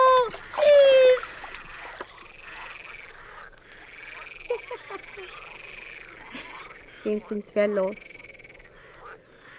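Frogs croak in a German radio play of Burattino: loud rasping, rattling croaks in short bursts near the start and again later, with a voice speaking briefly and faint watery sounds between.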